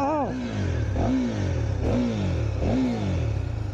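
Close up, a KTM Duke 390 motorcycle engine revs while being ridden. It swells and falls in four repeated throttle surges over a steady engine drone.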